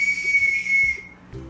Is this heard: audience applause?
no